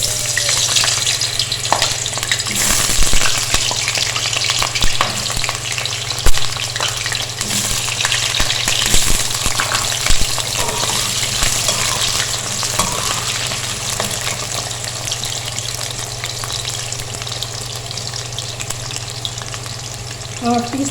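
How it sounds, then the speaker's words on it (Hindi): Potatoes frying in half a cup of hot oil on a stove, a steady close crackling sizzle with occasional stirring scrapes throughout. "अब सबसे पहले हम करेंगे आलूओं को फ्राई।"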